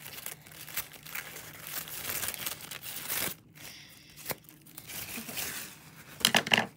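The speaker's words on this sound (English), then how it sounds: "We're going to cut out a piece with my scissors." Close, quiet crinkling and snipping as scissors cut through a piece of thin material, irregular bursts with short pauses between cuts.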